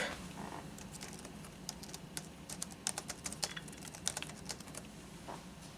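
Typing on the keyboard of an NEC PC-9821Nr15 PC-98 laptop: a quick run of light, close plastic key clicks over a steady background hiss, with no voices.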